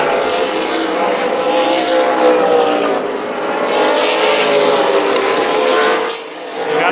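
Super late model race cars battle at Tucson Speedway, engines roaring loudly and continuously with rising and falling pitch as they run close together, with a brief dip near the end.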